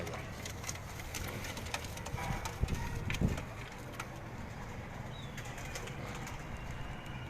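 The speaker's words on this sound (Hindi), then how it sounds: "ये अगर आप देखें बड़े जौसरे कबूतर हैं" Caged pigeons in Karachi, soft cooing and occasional wing flaps and shuffling over a quiet, steady background, with a brief cluster of louder rustles in the middle.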